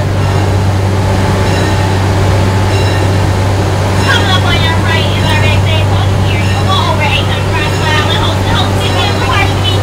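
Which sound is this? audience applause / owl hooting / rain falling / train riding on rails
train riding on rails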